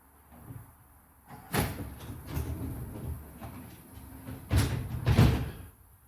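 Minneapolis city streetcar doors work in winter cold, with mechanical sliding, clunking and thudding as they open and close, two loud banging bursts standing out against a quiet interior.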